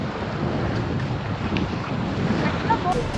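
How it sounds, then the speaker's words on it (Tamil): Waves surge against a shore with full, swollen water after rain, a dense continuous roar of surf mixed with heavy wind buffeting the microphone, loud and steady throughout. "அலை அடிக்குது."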